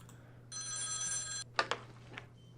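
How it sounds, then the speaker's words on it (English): A phone in the X-Files video game gives one long, bright electronic ring lasting about a second, followed by a few soft clicks and thuds over a quiet low hum. "That's your phone. It is indeed my phone."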